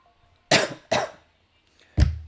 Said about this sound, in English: Just a cough.